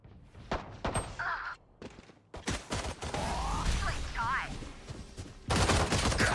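Valorant gunfire: sharp single shots and short bursts, loud and close, scattered among ability effects and background game sounds, ending in a dense burst.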